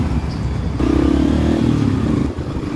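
A motorcycle overtakes on the left through Nepali road traffic. Its engine note swells loudly for about a second and a half, then fades, over a steady rumble of traffic.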